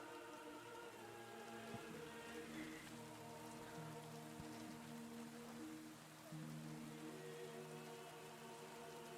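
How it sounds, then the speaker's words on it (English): Steady rain falls in the medieval video game Kingdom Come: Deliverance 2, a continuous hiss of drops on surfaces filling the scene evenly, with low tonal ambience and a faint musical drone underneath. "And starts to rain."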